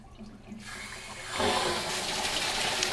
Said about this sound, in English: We'll crack open our water supply